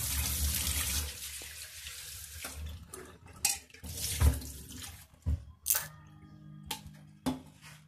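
Tap water runs into a kitchen sink while pabda fish are rinsed by hand, a steady wash of flow broken by splashes and clattering bursts as the fish are moved, with no one speaking.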